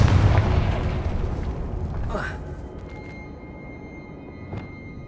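A Confringo fire spell explodes in Hogwarts Legacy, a deep booming blast followed by a fading rumble and a sharper pop near the end.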